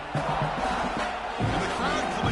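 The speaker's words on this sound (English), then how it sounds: "And the crowd coming to life here" Stadium crowd in an NCAA college football video game roars steadily throughout, a loud continuous wash of cheering with swelling chant-like tones and faint commentary underneath.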